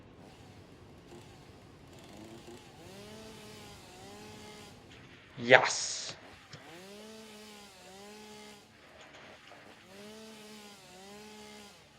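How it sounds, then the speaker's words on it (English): A chainsaw in the video game Satisfactory cuts down a tree, its engine revving in repeated rising whines with a sharp, loud burst midway, while a voice speaks briefly. "Ah, yes. Chainsaw. Let's do it."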